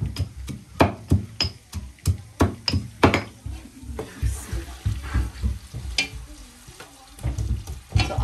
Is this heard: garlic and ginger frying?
yes